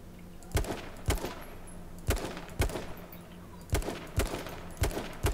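Single gunshots ring out in the shooter game H1Z1, about nine sharp cracks spaced roughly half a second to a second apart, fairly close and loud with no talk over them.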